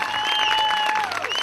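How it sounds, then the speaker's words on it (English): A crowd at a live house auction breaks into steady, full applause for the new owner, with a whistle-like tone gliding above the clapping. "Give the new owner a nice round of applause."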